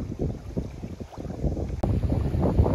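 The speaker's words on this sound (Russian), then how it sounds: "Ветер, конечно, такой порывистый." Gusty late-autumn wind on a riverbank buffets the microphone in uneven gusts, a low rumbling roar that swells and eases, with a brief dropout partway through.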